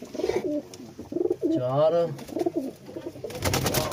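Kasoori and Taddy pigeons, kept as pet birds, coo in soft rolling throaty bursts close by, repeating through the moment while someone talks over them.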